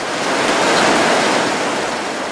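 Strong typhoon wind roars steadily in a dense broadband rush in Iba, Zambales, in the early morning, swelling slightly midway, with no voices present.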